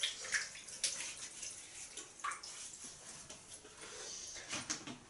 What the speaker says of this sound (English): We're going to wet the face.